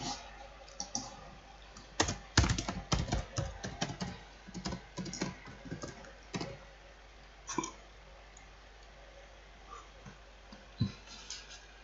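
Rapid, uneven clatter of keys as someone types code into a computer editor, bursts of close clicking with short pauses, loud and alone with no voice.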